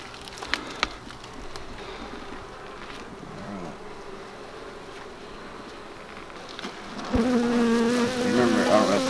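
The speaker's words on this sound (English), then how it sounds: "I don't know if you could remember the noise they were making initially, how they were really quiet and slow moving." Swarm of honeybees in an opened farm hive hums steadily close by, the drone growing louder and busier near the end, with a few faint knocks and no talk.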